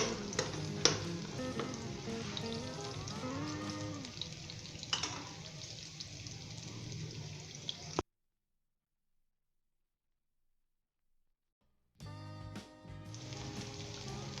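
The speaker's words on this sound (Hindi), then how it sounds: "दो से 3 मिनट तक हम दोस्तों इसे फ्राई करेंगे।" Spices for aloo matar bhujia fry in a pan with a steady close sizzle and occasional stirring scrapes, cut by about four seconds of silence before the sizzle resumes, with no talking.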